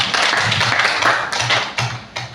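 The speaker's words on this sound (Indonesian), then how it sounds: "Tepuk tangan dulu untuk kita semua." A short burst of hand clapping from a small group in a teacher training session, uneven claps pattering together for a couple of seconds before trailing off.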